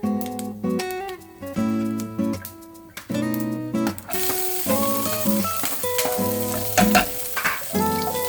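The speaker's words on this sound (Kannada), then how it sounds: "ಸ್ವಲ್ಪ ಈರುಳ್ಳಿ ಹಸಿ ವಾಸನೆ ಬಾಡಿಸ್ಕೊಳ್ಳಿ" Finely chopped onions sizzle and fry steadily in a pan for an okra dish, a continuous crackle with occasional stirring noises and a tonal hum running beneath.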